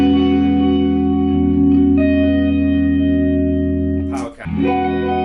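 A clean electric guitar rings out sustained chords through a Line 6 Catalyst amplifier, fairly loud, with a brief scrape or pick noise near the end.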